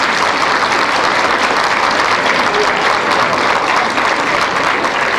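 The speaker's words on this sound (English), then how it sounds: "We'd like for you all to sort of give them a round of applause, if you would, please." A large crowd at a 1988 London Central High School reunion in Houston gives a sustained round of applause, dense and loud from start to finish with no pauses.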